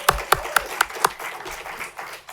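Audience applause at a policy talk comes through as a handful of sharp, evenly spaced claps, about five in quick rhythm, then softer scattered clapping that fades out.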